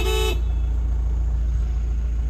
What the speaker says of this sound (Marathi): आता आपण असं हॉर्न वाजवत बसतो सारखा.